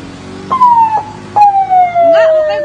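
A private car on a two-way road blares an unauthorized siren in short descending wails, two loud sweeps close by, alongside flashing strobe lights.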